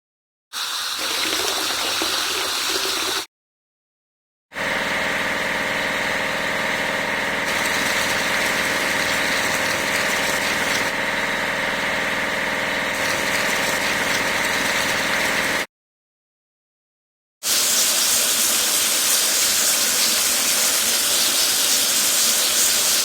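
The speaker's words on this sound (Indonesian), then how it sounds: "Ayo cuci sekoci." Water spray washing a lifeboat in a vehicle-washing game: a steady hissing gush over a droning engine-like hum, broken by two short silent gaps, with a brighter, harsher spray burst near the end.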